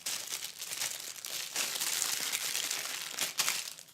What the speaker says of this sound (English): crinkly packaging going